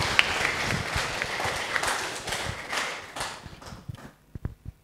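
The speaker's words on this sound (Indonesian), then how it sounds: "tepuk tangan buat Dr. Rasto" Applause at a talk for a guest speaker, a room of hands clapping that thins out toward the end into a few scattered, separate claps.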